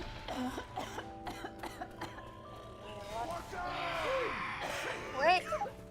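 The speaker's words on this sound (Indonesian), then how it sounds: "Batuk." Coughing in the zombie game Left 4 Dead 2, a few short rough bursts mixed in with game sounds, music-like tones and faint chatter.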